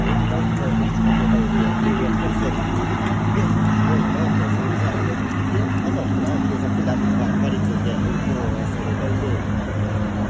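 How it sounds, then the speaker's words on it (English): An Avro Lancaster World War II bomber flies past at a Battle of Britain Memorial Flight airshow display in Clacton, a steady low piston-engine drone holding loud throughout, with crowd and wind noise mixed in. "he sees the Lancaster fly directly in front of him one more time"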